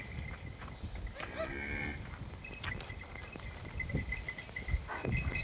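An HF dairy cow of medium size, in milk and close to calving, lets out a drawn-out moo near the start over a noisy farmyard with scattered knocks and faint distant animal calls.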